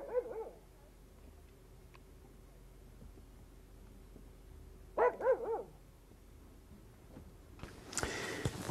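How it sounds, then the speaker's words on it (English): A family dog barks indoors in a Paris home, a couple of short bursts of barks and yips with quiet gaps between them, followed by a rustling noise at the end. "even the dog, Sally, barked a welcome"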